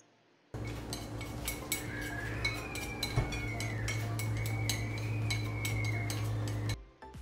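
Utensils clink and scrape steadily against a bowl while mixing a shredded tofu salad. The taps are quick, irregular and close over a constant low hum.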